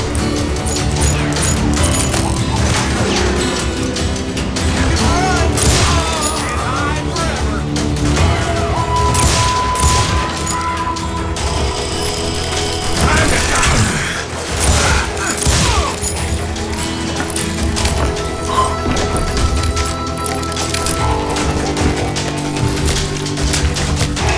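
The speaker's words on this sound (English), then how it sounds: "Shooting in the street!" Gunfire in a street shootout in the video game Call of Juarez: Gunslinger, with dense, continuous volleys of shots, booms and impacts over music, and voices shouting now and then.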